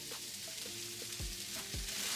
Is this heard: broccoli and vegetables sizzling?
yes